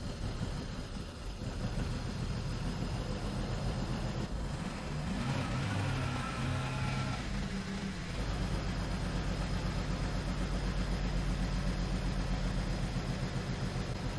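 A BMW 535i E61 wagon engine running rough at idle, a steady dense mechanical drone with an uneven low-pitched throb and brief surging, heard alone without talk.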